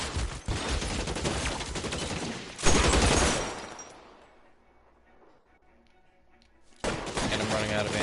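Gunfire in the video game LA Noire: a dense burst of rapid shots, a heavy blast that decays into a fading tail and near-silence, then another loud burst of firing.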